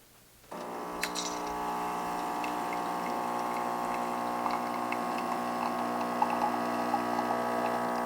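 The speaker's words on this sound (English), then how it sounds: "So I'm going to start by pushing my cup button and brewing" A Gaggia for Illy Plus capsule machine brewing coffee: after a brief quiet moment its pump kicks in with a steady, loud droning hum and faint liquid trickling that runs on unchanged, with no speech.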